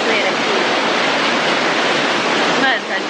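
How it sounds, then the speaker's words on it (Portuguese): A waterfall in Peru, heard as a loud, dense, unbroken roar of rushing water filling the whole space, close by and steady from start to finish. "Eu juro, eu tô numa cachoeira aqui."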